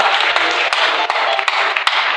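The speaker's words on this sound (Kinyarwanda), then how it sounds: "Yikomera amashyi" Applause from a congregation at a church service: a dense, sustained patter of many hands clapping, loud and close, with a few sharper individual claps standing out.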